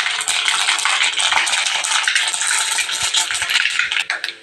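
Mustard seeds pop and splutter in hot coconut oil as a tempering for Mangalore-style mango pickle, a dense, loud crackle with sharp pops close by that runs steadily and thins toward the end.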